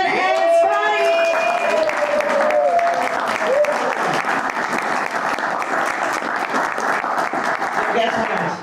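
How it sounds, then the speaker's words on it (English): Many hands clap at a house concert for the performers, a loud dense roar of applause running throughout, with a voice and whoops rising over it at the start. "To roll applause to Annie and Dan and Scotty."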